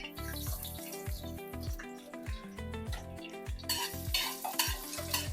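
Ginger dropped into well-cooked masala for a home-style pork curry, frying with a steady close sizzle and scraping stirs, louder toward the end, over soft rhythmic music.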